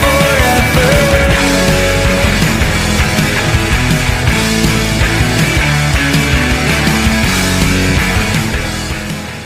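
Title track from a punk rock singer's solo album, a full loud band mix with dense drums, guitars and sustained tones running steadily throughout, fading slightly at the very end.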